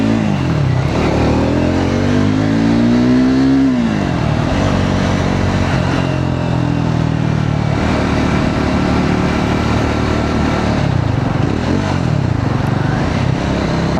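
Triumph Scrambler 400X motorcycle engine pulling hard, close and loud, its pitch climbing steeply through the revs before dropping at a gear change and carrying on in a rough, steady drone.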